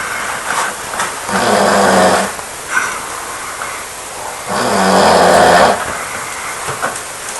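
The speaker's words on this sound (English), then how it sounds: "snoring so loud the walls are shaking" A man snoring loudly at night, two long rasping breaths several seconds apart with a brief quieter one between, close and heavy.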